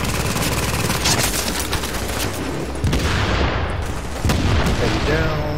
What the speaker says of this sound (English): Freaking grenade.